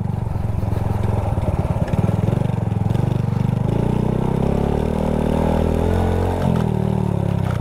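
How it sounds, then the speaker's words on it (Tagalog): Motorcycles ride off-road up Buntay Hills in Santa Magdalena, Sorsogon. Engines rev and labour close by, with a choppy rattling exhaust at first, then a smoother rising drone as a second bike joins and shifts pitch. "Pero nakakapasok yung mga motor, oh."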